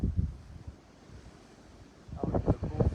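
Wind blows across open farmland in low, buffeting gusts, rumbling against the microphone with a quieter lull in the middle.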